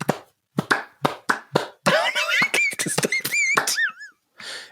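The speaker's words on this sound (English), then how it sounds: "when you bring your hands together and quickly they make a noise." Bare hands struck together quickly several times, a series of sharp close claps in an uneven rhythm, followed by squeaky, whistle-like gliding tones and more quick smacks.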